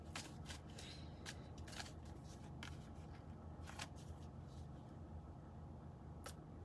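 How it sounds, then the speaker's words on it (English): Tarot cards being shuffled by hand, quiet close riffles and flicks coming in irregular bursts over a faint steady background. "I'm going to do one more shuffle"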